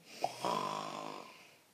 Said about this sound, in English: she heard a little snore